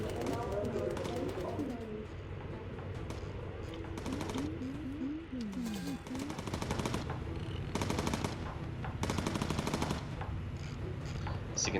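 Enemy anti-aircraft guns fire on a bomber in the game Bomber Crew, repeated bursts of rapid flak shots over a steady engine drone, with voices talking and a cooing bird-like sound in between.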